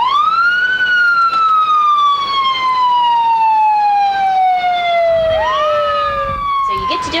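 A paramedic's ambulance siren, loud and close: one long wail that slowly falls in pitch, then sweeps back up near the end before starting to drop again.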